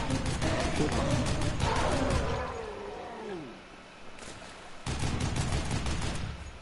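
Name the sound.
gunfire in the video game Dead Island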